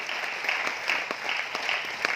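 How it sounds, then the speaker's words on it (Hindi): Applause from an audience at a gathering in Aurangabad, Maharashtra: steady, moderately distant clapping with a few sharper individual claps rising above the continuous patter. "आप ताली जोरदार वाली बजा सकते हैं सर"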